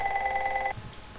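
A telephone rings with a steady electronic tone, loud and close, and then cuts off abruptly into quiet room noise.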